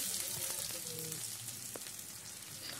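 Onions fry in a pan over a high flame, giving a soft, even sizzle with a crackly hiss that runs steadily throughout, quiet and close.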